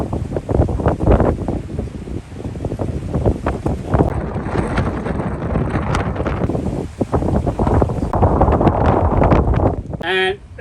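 Strong Meltemi wind in the Greek Islands roars and buffets the microphone without letup, with rushing water and creaking noises from an anchored sailboat underneath.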